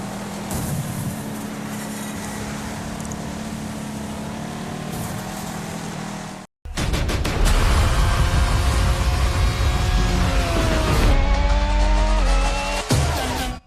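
Cars in a demolition derby racing video game roar continuously at high volume, engines straining and whining through gear changes, with a brief cut partway through before the loud engine noise resumes and tires squeal.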